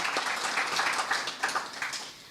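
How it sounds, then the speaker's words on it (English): Audience clapping at an official gathering, a dense patter of many hands applauding continuously and fairly close. "I think deserves a huge round of applause"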